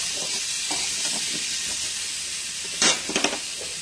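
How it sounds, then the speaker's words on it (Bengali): Spice paste fries and is stirred in a pan for shrimp with kohlrabi, a steady close sizzle with a few louder scraping stir bursts toward the end. "খুব ভালোভাবে এরপর কষিয়ে নিচ্ছি।"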